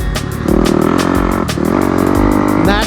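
A motocross motorcycle loops a free-flowing dirt track through the trees, its engine loud and close, rising in pitch as it revs and accelerates, with some rattling and scraping over natural terrain.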